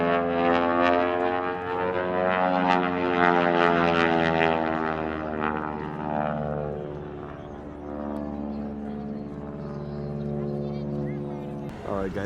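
A biplane performs aerobatics at a March Air Force Base air show, its loud propeller engine droning with a pitch that shifts as it passes and banks.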